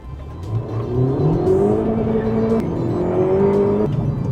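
A tuned Honda Civic Type R FL5 launches and accelerates hard, its engine revving up through a rising roar with a brief dip at a gear change, loud and close inside the cabin.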